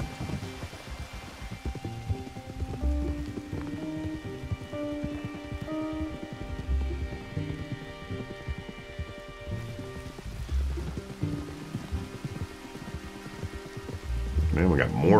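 Steady rain patters and hisses throughout in Red Dead Redemption 2, mixed with soft background music, with a brief louder rustle at the very end.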